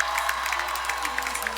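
Crowd cheering and whooping in a packed outdoor university yard at Howard University, an election-night gathering with American flags waving; steady, dense cheers with scattered shouts, fairly distant and continuous throughout.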